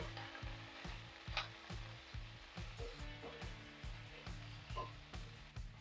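Garlic and chilli sizzle in a pan with a steady crackling hiss, faint and continuous, no one speaking.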